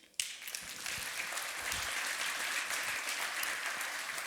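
Audience at a campus technology seminar breaks into applause for a speaker, a sudden onset that settles into steady, sustained clapping from a room full of people, moderately distant.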